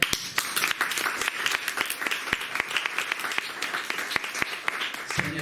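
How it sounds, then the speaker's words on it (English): Audience applause for translator Ksenia at a literary event, with scattered sharp hand claps that sound fairly sparse and moderately close, rising and falling steadily for several seconds. "So applause for Ksenia."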